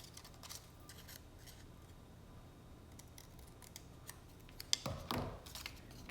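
Scissors cutting a paper strip for papering a box edge: soft faint snips and rustles near the end, including a sharp click and a brief crisp cut, against a quiet background with no talking.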